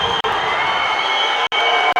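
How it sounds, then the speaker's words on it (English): A crowd in a sports hall cheers at a youth judo contest, a loud, steady roar broken by a few sudden brief cutoffs. "you could hear the crowd celebrating"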